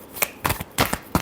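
Tarot cards are shuffled by hand in four quick riffling bursts, close and fairly clear, with short quiet gaps between them and no talking.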